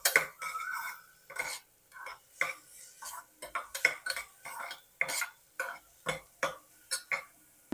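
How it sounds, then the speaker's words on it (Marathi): A small onion is sautéed and stirred in a pan for masoor dal soup. Close, crisp spatula strokes scrape and tap the pan in a quick, uneven rhythm with short pauses between them. "कांदा पण आपल्याला 1-2 मिनिटं छान परतून घ्यायचा आहे"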